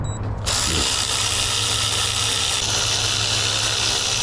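A ratchet wrench tightens a bolt on a 1996 Honda Civic EK coupe, a steady close mechanical clicking and whirring that starts abruptly and runs on without pause.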